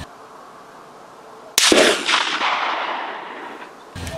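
A single sharp rifle shot from a Lencac M1A SOCOM fired at a steel post 200 yards out on a range, bursting loudly after a quiet lead-in and leaving a long, fading echo.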